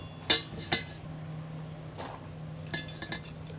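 A cooking pot over an open wood fire gets its lid set on, giving two sharp metallic clinks followed by softer knocks and rattles, close and fairly faint, with no talking.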